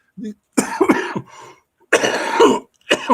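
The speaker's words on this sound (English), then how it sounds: "I'm having a coughing attack" Several harsh, loud coughs in quick clusters, with short rasping throat sounds between them, close by.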